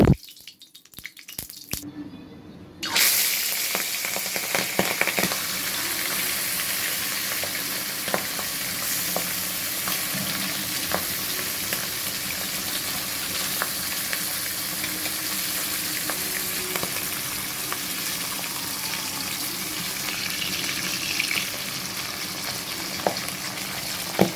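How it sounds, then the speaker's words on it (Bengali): Pabda fish frying in hot oil in a wok, a steady close sizzle that starts after a brief quiet moment and continues evenly, with occasional stirring clicks. "তো আমি একের পর এক মাছগুলো ভেজে তুলে রাখছি।"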